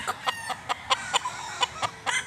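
A fighting-breed rooster in Cebu gives a quick series of short, sharp clucks, about ten evenly spaced calls, close and fairly clear over quiet background.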